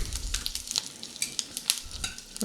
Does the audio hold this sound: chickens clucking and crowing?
no